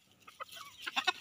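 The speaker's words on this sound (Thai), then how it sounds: "นี่ไก่ตัวใหญ่เลย" A large domestic chicken clucks at feeding time, giving a few soft, quick clucks that grow slightly louder toward the end, close by and fairly quiet, with no voices.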